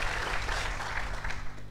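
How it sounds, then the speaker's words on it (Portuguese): Brief, dense applause at a football club's squad presentation, a loud wash of clapping from a gathered crowd with a low hum underneath, lasting under two seconds. "Salve e palmas para o Carminati, porque esse cara merece."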